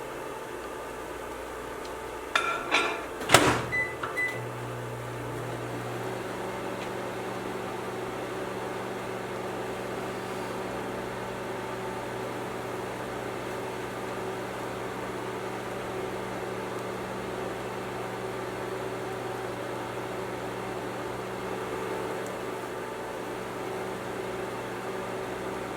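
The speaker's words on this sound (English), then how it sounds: "we want to put this in the microwave for 1 minute to melt" A microwave oven runs with a steady low hum while melting chocolate chips and heavy whipping cream, after a brief clatter of door and buttons near the start, continuing evenly for a long stretch.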